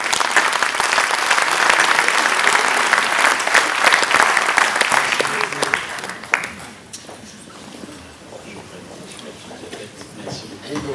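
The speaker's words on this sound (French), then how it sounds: "On applaudit l'entrée de l'artiste." Conference audience applauding a speaker's entrance at a finance law lecture, a dense, loud wash of clapping for about six seconds that fades into quieter room noise and murmuring.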